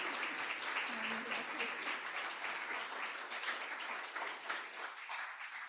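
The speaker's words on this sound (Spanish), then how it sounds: "Un aplauso para Betty." A congregation at a church retreat plenary applauds for a woman, a fairly faint but continuous wash of clapping with a few voices mixed in underneath.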